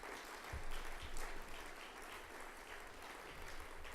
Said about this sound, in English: Please could we have a round of applause for Joan and Mark Edwards